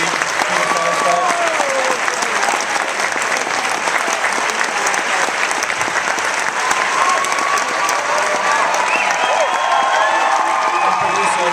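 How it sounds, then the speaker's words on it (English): A post-screening festival audience applauds filmmakers and cast with loud, sustained clapping and occasional cheers and whoops, a dense continuous roar with voices mixed in throughout. "keep the applause going for Rob Epstein, Jeffrey Friedman, and their wonderful cast."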